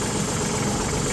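A Branson farm tractor's diesel engine idles steadily nearby, a dense continuous rumble with no breaks and no voices over it.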